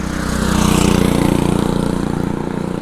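A loud motor vehicle, likely a motorcycle, rumbles steadily close by with a rough, pulsing engine drone that stays strong throughout, as if driving past.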